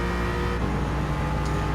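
Loud, continuous engine drone of a race car accelerating in Gran Turismo 7, steady and close with a droning hum throughout.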